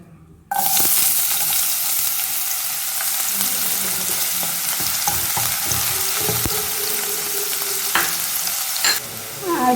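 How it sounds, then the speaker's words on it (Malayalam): Chopped shallots hit hot coconut oil with a sudden loud sizzle that keeps crackling steadily, broken by occasional spoon scrapes and small clinks, close up with no voices. "ഇനി നമുക്ക് അതിലേക്ക് ഉള്ളി ചെറുതായിട്ട് അരിഞ്ഞ് വെച്ചിട്ടുള്ള ചെറുള്ളി ഇട്ട് കൊടുക്കാം"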